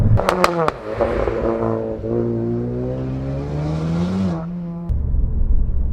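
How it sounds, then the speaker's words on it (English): A Mountune m520 tuned Ford Focus RS with an aftermarket titanium exhaust, the engine note holding a loud, close revving drone before sharp rally-style pops and bangs crackle out at the start and end. "This has got an aftermarket titanium exhaust from Mountune on it as well, and you get the most ridiculous rally style pops and bangs out the back."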